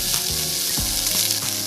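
Onions sizzling in a pan for vegan soul food, a close, even frying hiss with a few soft stirring swishes and scrapes, no voices.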